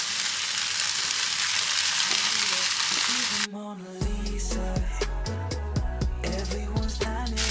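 Vegan pesto-flavoured plant-based mince sizzling and frying in a pan, a loud hiss giving way to a continuous crackle with scraping and stirring knocks, close up and without talk.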